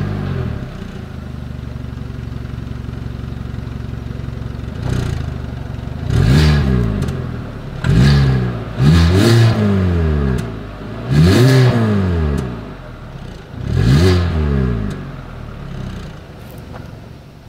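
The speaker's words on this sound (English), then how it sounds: "here is that exhaust clip." A Hyundai Venue small SUV's engine idles, then its exhaust revs sharply four or five times in quick bursts, each rising and falling back, close and loud with no talking.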